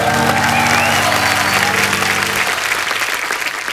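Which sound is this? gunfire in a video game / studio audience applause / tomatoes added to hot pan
studio audience applause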